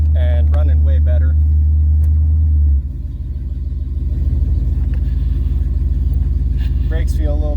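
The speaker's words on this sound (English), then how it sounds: "It's idling and running way better." A 1977 Pontiac Trans Am V8 idles steadily after a carburetor tune, a loud, even low rumble that continues throughout, with someone talking briefly over it near the start and again at the end.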